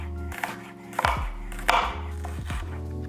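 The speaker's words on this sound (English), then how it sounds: "we're gonna cut them in slivers" Knife slicing onion halves into thin slivers on a cutting board, a few sharp close cuts spaced irregularly over a steady low hum, with no speech.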